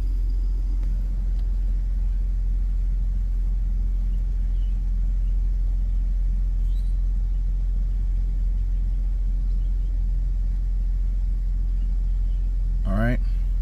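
A BMW car engine idles in drive with the foot on the brake, a steady low rumble that stays constant and fairly loud, with a brief sharp noise near the end.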